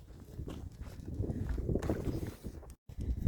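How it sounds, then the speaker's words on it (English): Low, rumbling wind buffets the microphone in continuous gusts, briefly cutting out before surging back loud, outdoors at a shooting range. "it decides to fucking get windy when I get out here"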